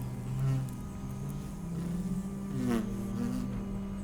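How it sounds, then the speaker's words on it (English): A low, droning insect buzz hums steadily and faintly, wavering slightly in pitch, with no voices present. "then you start hearing a buzzing sound, a droning"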